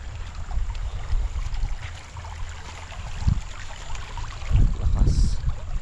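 Water runs steadily from a garden watering line just opened for watering plants outdoors, a broad continuous flowing rush with a few louder splashing surges near the end.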